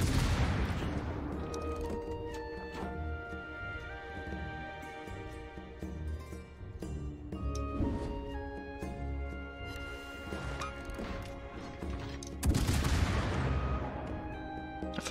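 Naval gunfire booms and impacts hit a ship in World of Warships, with a series of heavy, echoing blasts and rumbling explosions spread across the stretch, loud and close, with a dense game soundscape underneath.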